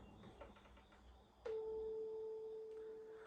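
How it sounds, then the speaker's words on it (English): A sharp strike of a tuning fork on a knee, then a pure, steady A tone ringing from a resonating body that sustains evenly and fades only slightly, after some soft tapping and handling. "So a tuning fork, I hit it on my knee like this"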